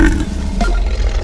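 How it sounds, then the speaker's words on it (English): A single deep, rough belch lasting about a second, loud and close with a grunting, roar-like growl. "You call that a burp?"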